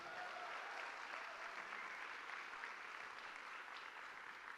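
A church congregation clapping for Jesus during a sermon, steady sustained applause heard at a distance throughout, with faint voices mixed in.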